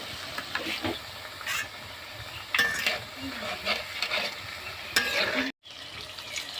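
Batter-coated stuffed green chillies deep frying in hot oil, a steady crackling sizzle with bursts of bubbling and occasional stirring clatter, close by and continuous with one brief dropout near the end.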